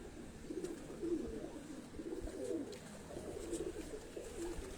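A domestic flying pigeon, kept back from flying for breeding, coos in soft repeated throaty phrases at close range, quiet against a calm background.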